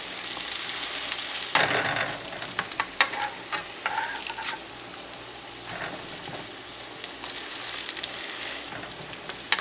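Salmon fish cakes frying in a pan after being flipped, a soft steady sizzle with occasional sharper crackles and a few spatula scrapes, close but fairly quiet.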